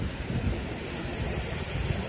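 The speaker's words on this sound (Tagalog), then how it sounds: "Ang lakas lang hangin guys." Strong storm wind at the sea during a typhoon while fishing among rocks, a steady loud roar of wind and surf buffeting the microphone with low rumbling gusts throughout, no voices.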